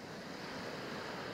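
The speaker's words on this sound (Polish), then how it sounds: "posłuchać fal morza," Steady, faint wash of sea waves, a soft continuous broadband surge with no distinct breaks and nothing else audible.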